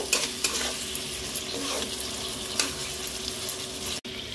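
Chicken and cauliflower with red chili sauce stirred in a hot pan, a continuous sizzle with a few sharper scrapes and clinks of the spoon, close by, cut off abruptly for an instant near the end.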